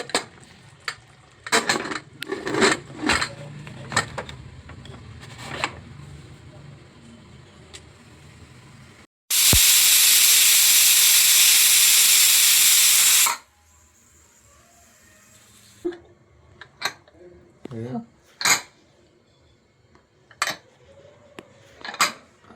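A pressure cooker steaming a ridge gourd and chana dal curry lets out one loud, sustained hissing whistle lasting about four seconds, set between lighter clinks and clatter of kitchen utensils.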